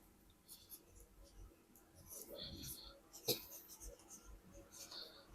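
Pen or marker writing out a money amount of 30,000 taka in English on paper during an accounting lesson, soft scratchy strokes in short bursts, faint and close, with a sharp tap midway and quiet breathing.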